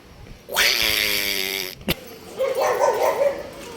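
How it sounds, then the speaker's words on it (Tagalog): A dog barks angrily with a loud, sustained growling bark near the mic, then a sharp thump, followed by fainter yapping further off. "Galit na galit yung aso doon o."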